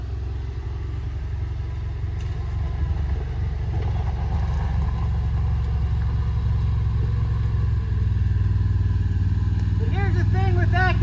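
A CFmoto Cforce 1000 ATV engine runs in low gear with active descent control on, a loud, steady low rumble that holds throughout with slight swells, while a person talks over it near the end.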